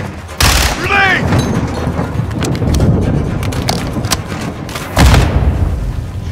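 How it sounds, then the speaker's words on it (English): Grenade blast in Call of Duty Modern Warfare 2, a loud sudden boom and thump amid gunfire, soldiers' voices, and a second heavy impact near the end. "Grenade!"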